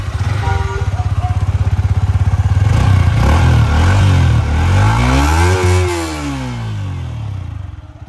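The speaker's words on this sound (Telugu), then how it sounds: "మనం ఇంజిన్ ఒకసారి ఆన్ చేసి ఐడల్ కండిషన్స్లో రెవింగ్ ఇస్తే మీరు ఎగ్జాస్ట్ స్టాక్ ఎగ్జాస్ట్ ముందు ఒకసారి వినండి." A Yamaha R15 V4 motorcycle on its stock exhaust, loud and close, holds a steady idle and then is revved up and back down, with the engine note sweeping up and falling away.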